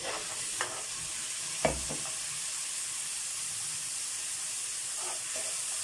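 Papaya sautéing with fish sauce and ginger in a pan, a soft continuous sizzle and hiss with a few faint stirring clicks and knocks, quiet and close, no talking.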